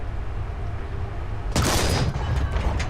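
A single heavy tank cannon shot in War Thunder ground battles erupts suddenly after a quiet stretch, loud and close, with a rumbling, crackling decay trailing off over the next second.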